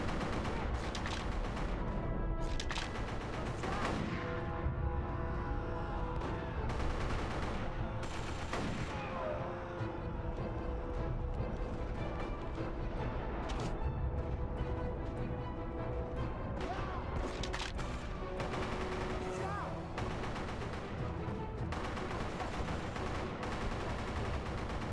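Rapid video game gunfire rattles on for the whole stretch: dense bursts of automatic fire and scattered single shots under a constant loud battle din.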